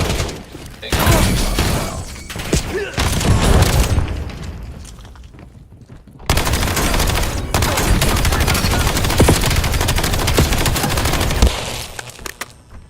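Loud, dense video game gunfire with rapid bursts, booms and crashing impacts, dipping briefly in the middle before resuming at full intensity.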